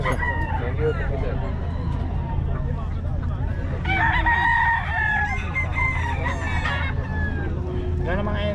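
Chickens cluck busily nearby while a rooster crows loudly several times, with a constant low hum underneath, as hens are sold to buyers.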